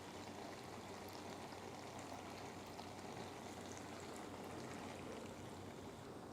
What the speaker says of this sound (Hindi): तो इसमें हम डाल देंगे पानी